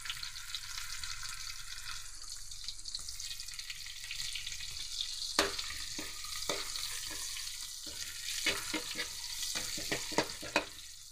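Garlic and onion sautéing in hot oil make a steady, close frying sizzle, joined in the second half by repeated stirring scrapes and taps against the pan. No talking.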